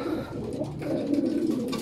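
Soft, low cooing of a pigeon close by, a steady throaty murmur lasting a couple of seconds.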